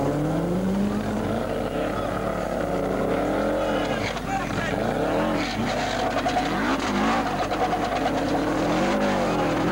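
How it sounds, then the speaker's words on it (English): A Subaru rally car in a televised rally stage, its engine revving and wavering up and down as it struggles for traction, loud and close, with wheelspin and skidding and a commentator talking over it. "The Subaru is emerging, but still can't get traction."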